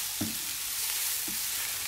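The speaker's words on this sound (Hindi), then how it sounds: "तो अब हम इसे भूनेंगे तकरीबन 10 से 15 मिनट।" Grated radish mixture for mooli paratha frying and being stirred in a pan, a steady close sizzle with a couple of soft scraping stirs, no talking.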